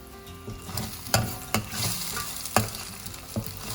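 A spatula scrapes and stirs a beef puttu mix with turmeric powder in a hot pan at a Kerala street stall, with repeated close knocks and scrapes over a steady low sizzle.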